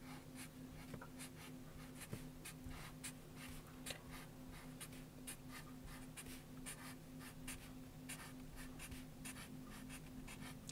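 Steady scratchy strokes of a pen or marker moving across paper, close up, with continuous soft rubbing and brief taps, no voices.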